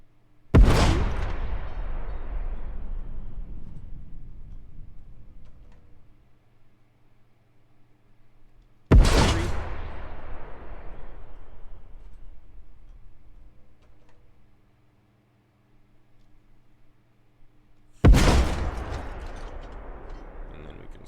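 Three heavy artillery shots from Arma, each a sharp loud blast whose rumble fades over several seconds, spaced roughly nine seconds apart over a faint steady hum.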